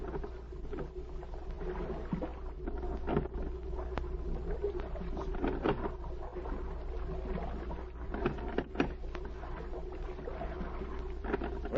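Rowboat moving through water at night, a radio drama sound effect: steady low lapping and wash with occasional oar knocks and splashes, continuous and moderately close, with no voices.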